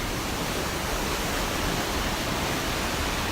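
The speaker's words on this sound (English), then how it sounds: "There's the whole creek." Illilouette Creek near Illilouette Falls in Yosemite rushes as a steady, loud broadband roar of flowing water, with no other sounds.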